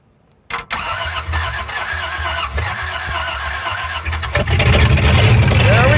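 A barn find Jeep Wagoneer engine cranks, catches and settles into a rough running idle, then revs louder toward the end, recorded close in a garage with voices briefly audible.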